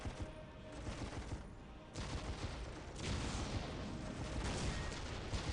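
Battle gunfire and artillery rumble through Warhammer 40K: Dawn of War on PC, a continuous dense barrage of shots and distant booms, steady throughout and fairly faint.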